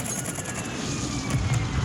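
Rapid gunfire in the Warzone video game, a rattling automatic burst with a heavier swell near the end, sounding at moderate distance with no voices.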